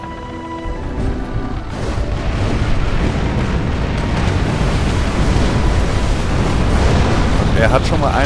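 In the pirate video game Tempest, ship cannon fire makes a loud, continuous booming roar, with thick low rumbling that builds and holds for several seconds, as though shots arrive in rapid succession.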